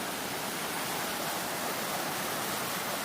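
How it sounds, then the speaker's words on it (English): Water running in a small creek, a steady broadband rush of flowing water that stays even and continuous throughout, close by and fairly loud with no voices. "I can hear water running from the creek."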